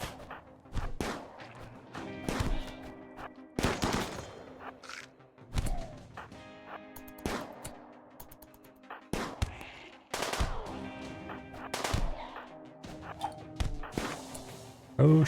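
RimWorld gunfire, repeated sharp shots and rapid bursts in irregular clusters with thuds between, fairly close and punchy, mostly without talk.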